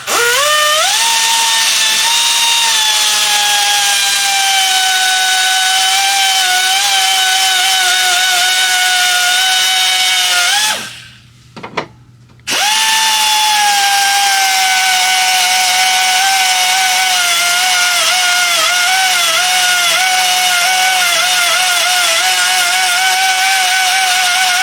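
A power sander grinds down an engine crankshaft counterweight for a QMK stroker build, a loud steady whine that stops briefly partway through, then starts up again and runs on to the end.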